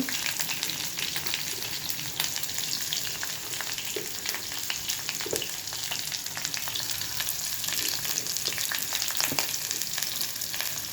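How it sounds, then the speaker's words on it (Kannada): Onions and green chillies fry in a pan for a horse gram curry, with a constant close sizzle and crackle and occasional soft stirring taps, steady and unbroken throughout. "ಹಾಗೆ ಈರುಳ್ಳಿ ಹಾಕ್ಬಿಟ್ಟು ಇದನ್ನು ಫ್ರೈ ಮಾಡೋಣ."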